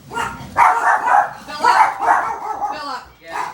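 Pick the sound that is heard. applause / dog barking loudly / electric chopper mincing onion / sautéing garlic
dog barking loudly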